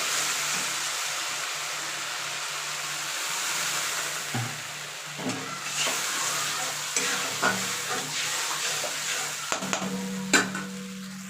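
Vegetables for a potato, pointed gourd and soya chunk curry sauté in a pan with a splash of water, giving a steady close sizzle broken by scattered scrapes and knocks of a stirring spatula.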